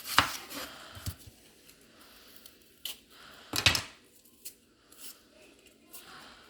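A knife chops Spanish or Vidalia onions for burgers with a handful of distinct, irregular cuts, each a sharp close thunk against the board, separated by quiet gaps.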